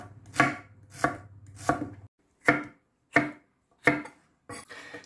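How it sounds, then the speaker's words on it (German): Onions being sliced into fine rings on a board, seven crisp, evenly spaced knife chops, close and clear, with a low hum under the first few. "wenn wir damit fertig sind, werden die Zwiebeln noch in feine Ringe geschnitten"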